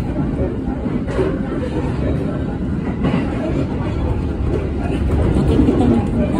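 Steady rumble and rattle fill the interior of a moving passenger train, with a constant low drone and clatter, and people talking quietly in the background.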